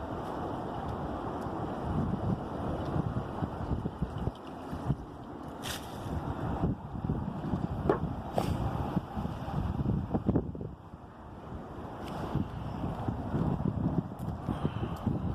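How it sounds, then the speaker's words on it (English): Water rushes steadily and continuously through a flat-roof drain, a broad hissing flow with a windy, roaring texture. No one speaks. "That magical sound, the water flowing."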